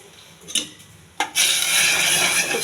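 Masoor dal and millet are stirred in a pot, starting with a couple of brief scrapes before a loud, continuous gritty rasp of grains moving against the metal; no voices.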